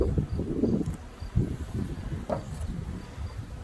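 A honey bee swarm being hived gives a low, steady buzzing drone throughout, fairly faint, with soft handling rustles and no talking.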